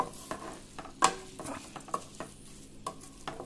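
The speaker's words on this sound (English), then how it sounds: "Stir fry this for some time." Fenugreek leaves are stir-fried in a pan, with a low sizzle under repeated scraping and tapping of a spoon against the pan at irregular intervals, close and quiet.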